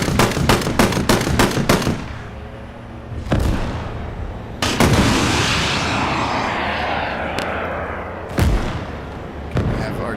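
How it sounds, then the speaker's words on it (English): Gunfire and artillery in a modded tank combat video game: rapid machine-gun bursts open the clip, followed by several loud, heavy booms with rumbling tails and a long roaring stretch between them. "We have artillery coming our way."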